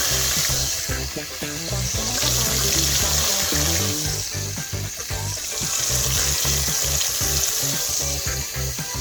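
Frying sizzle in a pan as steak gravy is started during Samoan Sunday cooking, a steady, loud broadband crackle with clattering stirring and scraping throughout, no voices.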